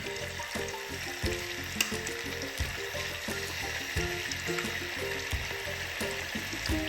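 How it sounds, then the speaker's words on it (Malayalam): Small pieces of tuna fry in hot oil in a pan, giving a steady close sizzle and crackle over a background of clinks and kitchen clatter, with no voices. "നമുക്ക് ഈ മീൻ വറുത്തെടുക്കാം."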